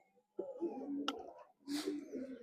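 Soft, low pigeon coos in two short phrases inside a pigeon shed, close by and quiet, with a faint click between them.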